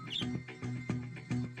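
Cartoon-style birds chirping as a sound effect in an animated riddle scene set on a starship bridge: a few short tweets repeating in a loose rhythm, fairly faint and alone.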